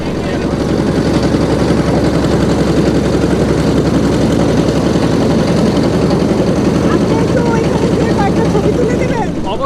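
Engine boats arriving at a floating guava market in Barisal, a loud, continuous low engine drone up close that stays steady throughout.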